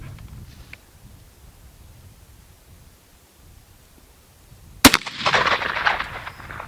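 A single loud, close shot from a Bullard lever-action rifle cracks sharply after several seconds of quiet outdoor background, followed by a few seconds of rumbling echo with no talking.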